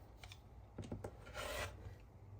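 Trimming the edges of a fabric Ohio Star patchwork quilt block with a square ruler, heard as faint, short raspy cutting strokes, with a longer scrape near the end.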